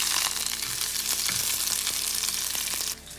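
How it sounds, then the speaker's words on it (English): Beans fry in a pan for a home-cooked lunch with a steady, bright sizzle and occasional stirring scrapes, loud and close, before the hiss drops off near the end. "Now I'll fry these beans and then I'll make dal"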